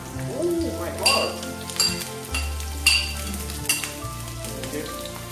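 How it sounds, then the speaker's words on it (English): Onions hit a hot pan and crackle loudly while a utensil clinks against the metal in sharp bursts, with a voice speaking faintly beneath the sizzle. "we will add onions into the pan"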